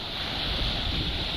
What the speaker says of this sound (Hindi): हवा भी काफ़ी ज़्यादा तेज़ है, इसी वजह से ना समुद्र फुल रूज में है